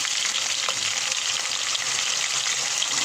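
Ginger garlic paste frying in a pan with softened onion and garlic, a steady loud sizzle that holds evenly throughout with no voices.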